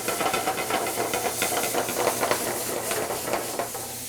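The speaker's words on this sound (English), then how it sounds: "So here I'm going to deglaze the pan, pull off all the greatness off the bottom of the pan." A hot pan is deglazed, giving a steady hiss of steam with crackling sizzle throughout, close and moderately loud.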